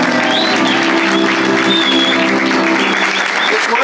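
A studio audience on a television game show applauds steadily and loudly as names are called, a continuous wash of clapping with a faint crowd murmur underneath and a steady tone running beneath it.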